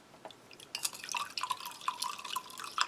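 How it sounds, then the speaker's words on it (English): Water is poured into a glass, a bubbling, rising glug and trickle that starts after a brief quiet moment and continues steadily at close range. "We'll give it about half a glass of water."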